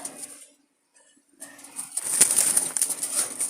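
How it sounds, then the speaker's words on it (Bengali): Jalali pigeons for sale coo and flap their wings, a short burst of flapping building after a quiet gap, moderately loud and close, with no talking. "অনেকগুলো কবুতর দেখাবো আর কি।"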